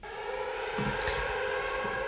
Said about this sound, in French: Vous allez voir qu'il y a une sirène et un crash.